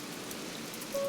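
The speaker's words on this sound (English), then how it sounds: "I am happy that it is raining during my tour" Steady light rain hiss in Animal Crossing New Horizons, soft and even throughout, with a brief clear tone entering near the end; no voices.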